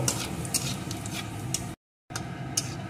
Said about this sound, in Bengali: এখন ফোড়নগুলোকে একটু ভেজে নেব।